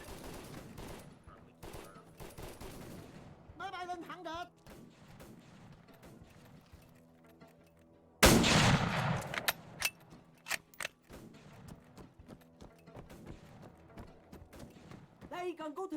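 Gunfire from the military video game Arma 3, set in a First Indochina War scenario: a loud, sharp burst of shots lands mid-clip, followed by scattered single cracks, with someone talking before and after.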